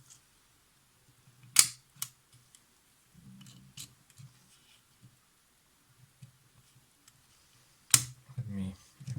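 A FED 5B rangefinder camera on the bench gives two sharp, close mechanical clicks from its film advance and shutter mechanism, spaced several seconds apart, with quiet handling noises and someone talking between them.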